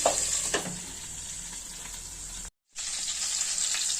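Stuffed brinjal curry (gutti vankaya) cooking in a pan: a steady, close hiss of sizzling and simmering with faint stirring knocks and a brief gap of silence partway through.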